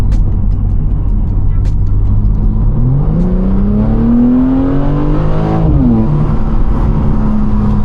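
A BMW G80 M3 in sport mode with its exhaust valves open revs up, the engine note climbing steadily in pitch before dropping back to a steady drone, loud and close throughout.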